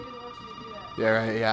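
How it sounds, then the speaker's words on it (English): A telephone rings inside a spooky VR video game, a steady tonal ring that swells louder near the end while someone talks over it. "Oh, that's the phone."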